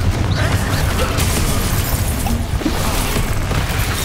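A Confringo blasting spell explodes in Hogwarts Legacy, part of a dense, loud, continuous stretch of booming game-combat rumble with scattered bursts and crackles and no distinct pauses.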